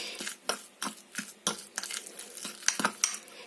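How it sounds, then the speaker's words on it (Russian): A fork beats chicken egg white with olive oil in a bowl, making quick, light metallic clicks and scrapes in an uneven rhythm, close and fairly quiet. "Тщательно перемешиваем."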